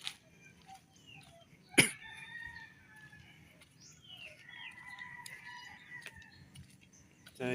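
Texas hens and a rooster cluck and call softly at close range, with a sharp knock partway through and a quiet bird chorus behind them.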